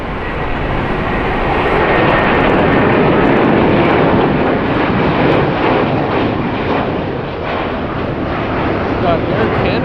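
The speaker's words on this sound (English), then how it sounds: "Got Air Canada rocketing out with their Airbus 330." Air Canada Airbus A330 taking off at Los Angeles International Airport, a loud sustained jet roar filling the whole stretch, with voices faintly under the engine noise.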